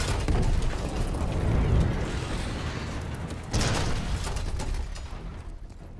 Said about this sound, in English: Case, get a charge on that Scud, now!